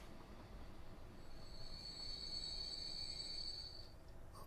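A train in Transport Fever 2 gives a long, high-pitched wheel squeal that builds and holds for a couple of seconds over a low rolling rumble, then fades, with no talking.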